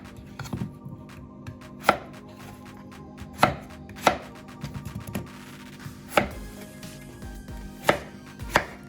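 Potatoes chopped into even-sized pieces with a knife on a cutting board, sharp separate knocks spaced irregularly, about a dozen strokes, close and alone.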